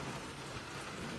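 Rain pours down on a stormy February night with a dense, continuous hiss and low rumbling underneath, steady and fairly close with no voices.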